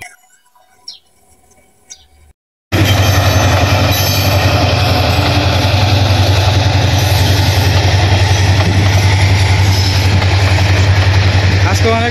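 After a quiet village moment with faint sounds, a train suddenly roars past close by, a loud continuous rumble of wheels and rail noise with a steady low hum and occasional squeals.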